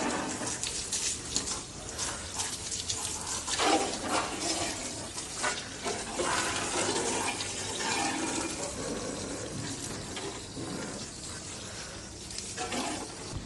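A garden spray gun shoots a strong fountain-like jet of water, a steady loud hiss and splash that runs continuously with small surges in intensity.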